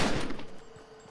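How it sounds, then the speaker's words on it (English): Rapid gunfire in the video game Fortnite on PlayStation 5, a dense loud burst of overlapping shots at the start that tails off into quieter echoing reports, with no speech. "Where are you shooting from?"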